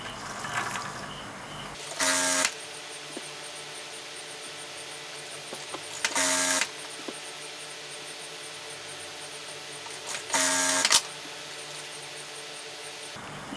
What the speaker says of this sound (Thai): หลังจากที่เราเย็บมาเมื่อกี้โดยการใช้จักรเย็บผ้ามาแล้วนะคะ